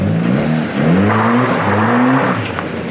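A Ford Fiesta Mk6 with a new Powerflow exhaust, sitting in a residential street, revs in three short rising pulls close by, each climbing in pitch then dropping back to idle.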